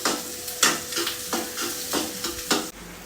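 Sliced onion and green chili frying in oil with repeated stirring, a steady bright sizzle broken by about six rhythmic scraping strokes, close and fairly loud, cutting off abruptly at the end.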